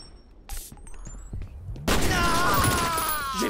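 Gunfire in a combat scene, a few scattered thuds and shots early, then a sudden loud eruption of sustained firing and noise filling the rest, with shouted voices mixed in.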